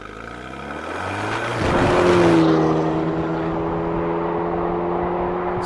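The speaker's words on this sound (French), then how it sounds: "Et le 4 cylindres 1800," Alpine A110's 1.8-litre four-cylinder engine revving hard nearby, pitch climbing to a loud peak and then easing into a steady high drone, with no talking.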